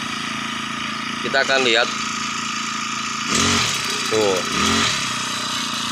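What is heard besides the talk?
four-stroke lawn mower engine revving up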